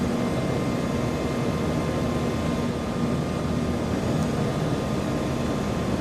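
MH-60 helicopter with its engine started in Microsoft Flight Simulator 2024, a loud, steady, broadband turbine whine and rush that holds constant without variation.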